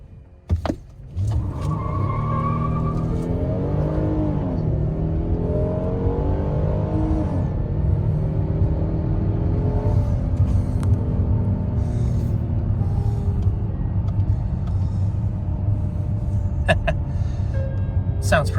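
A 2021 Kia Telluride EX FWD with a V6 engine accelerates hard in sport mode with tire spin. A loud, steady engine drone rises and holds for most of the stretch over a strong low rumble, and a voice speaks briefly near the start.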